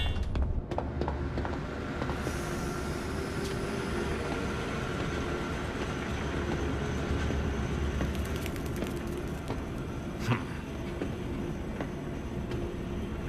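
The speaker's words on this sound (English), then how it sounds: "Now activate the lever to lower the gadget trolley. Now drag the trolley to the gates." A gadget trolley rolls along rails in the horror zoo game Zoochosis, a steady low rumbling mechanical drone that runs continuously, with a brief clank near the end.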